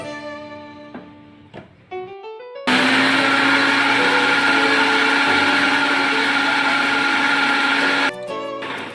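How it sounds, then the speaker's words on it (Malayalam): An electric mixer grinder whipping egg whites for a homemade cake, a few short start-up pulses, then a loud steady whine for about five seconds before it cuts off and pulses again. "മുട്ടയുടെ വെള്ള മിക്സിയിലായിട്ട് നല്ലതായിട്ടൊന്ന് അടിച്ച് പതപ്പിച്ചെടുക്കണം."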